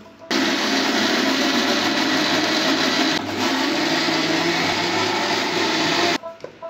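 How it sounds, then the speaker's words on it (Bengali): An electric kitchen blender whirs continuously while mixing homemade mayonnaise from soybean oil, water and sweetener, a loud steady motor drone with one brief dip midway before cutting off near the end. "এখন দিয়ে এগুলো ব্লেন্ডার করে নেব।"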